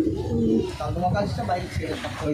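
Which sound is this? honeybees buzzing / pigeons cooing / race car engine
pigeons cooing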